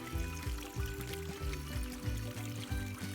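Water from a stream on a hiking trail trickling and pouring as it is collected, a faint close gurgling with uneven bubbling pulses and no talk.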